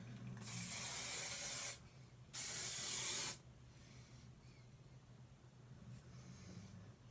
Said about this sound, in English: Just give it a spray.